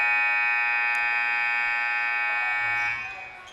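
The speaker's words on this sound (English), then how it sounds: "The buzzer sounds." A loud, steady electronic buzzer sounds at a girls' high school basketball game between Inderkum and Bella Vista, played at Bella Vista, holding one continuous tone for about three seconds before cutting off and fading.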